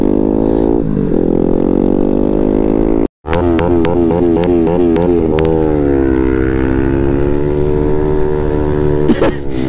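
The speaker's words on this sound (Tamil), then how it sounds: "வண்டி சவுண்ட் மட்டும் வருது, வண்டி முன்னாடி போகவே இல்லை." A Bajaj NS200 motorcycle engine at a bike rally on a climb revs hard. The buzzing tone surges up and down in quick repeated blips, then holds a steady high drone, loud and close throughout.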